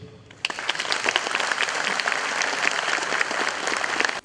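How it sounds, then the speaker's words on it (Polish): Guests at a golden wedding jubilee ceremony applaud couples receiving medals for fifty years of marriage, a loud sustained burst of clapping that starts abruptly and holds steady before cutting off. "A dzieci i gości zebranych prosić o wielkie brawa dla rodziców."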